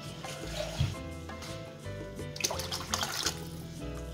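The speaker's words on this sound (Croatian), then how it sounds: "dodajemo unutra litar vode." A litre of water poured into a pot for a yogurt and mint soup, a close gurgling, splashing stream with clinking and a short swell of louder pouring.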